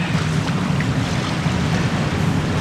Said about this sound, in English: Still getting a lot of wind.